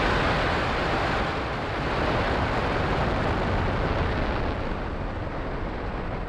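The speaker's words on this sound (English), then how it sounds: "Engines full power and liftoff of Starlink 437." A SpaceX Falcon rocket launching Starlink 4-37 thunders at liftoff, a loud, dense, unbroken roar that holds steady throughout.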